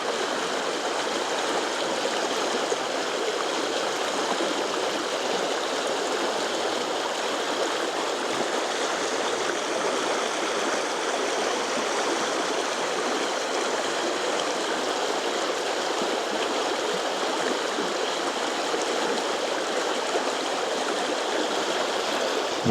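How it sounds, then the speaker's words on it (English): A stream of moving water swollen after rain in the wet season flows in a constant, even rushing hiss, close and steady throughout with no pauses and no voices. "I'm a sucker for moving water."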